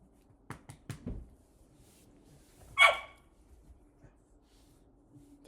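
A dog named Cookie, being dog-sat at home, gives a few quick faint barks in the distance, then one louder bark a moment later, alone over quiet room noise.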